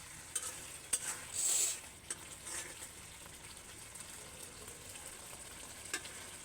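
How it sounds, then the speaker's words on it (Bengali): A drumstick (sajne data) curry simmers and is stir-fried down with water in a pan: a soft, even sizzle with a brief louder scraping stir near the start and light utensil taps, quiet and without speech. "পানি দিয়ে আমি এখন সুন্দর করে কষিয়ে নিচ্ছি"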